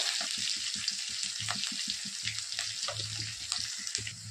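Green chili and plenty of garlic dropped into hot oil with toasted cumin, crackling and sizzling steadily up close, with quick popping spatters throughout and no voices.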